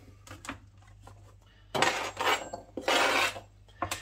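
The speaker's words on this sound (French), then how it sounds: "Je coupe le poivron en 2 et des tranches de environ 1 cm" A knife slices through a bell pepper on a cutting board, giving a few loud, crisp cuts, the later strokes longer and heavier, with light taps in between.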